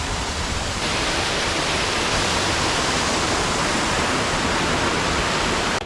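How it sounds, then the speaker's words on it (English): Raven Cliff waterfall in Georgia, pouring over quartzite rock, gives a loud, steady, broadband roar of rushing water that stays constant and close throughout, with no other sounds standing out. "I'm gonna quickly check out this waterfall."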